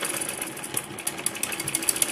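Sewing machine stitching a straight seam on a Patiala salwar, running steadily and close by with a fast, even mechanical patter and faint clicks throughout, no voices.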